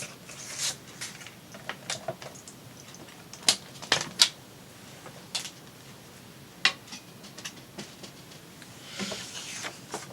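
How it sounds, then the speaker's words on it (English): Faint, scattered clinks and taps of a metal bracelet against a table, irregular and close, amid light rustling and handling noises. "sorry about the noise from my bracelet"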